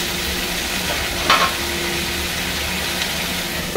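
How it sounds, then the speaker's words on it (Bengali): Potatoes and greens stalks frying in oil in a pan for a Bengali home-cooked dish, a soft steady sizzle with a brief stirring clatter partway through, no talk. "আলু আর ডাঁটাগুলো হালকা লাল লাল হবে, একটু ভাজা হবে"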